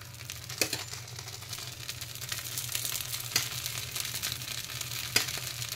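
Oil sizzles steadily in an appe pan as rice appe fry, a continuous close crackle with a few sharper pops and no voices.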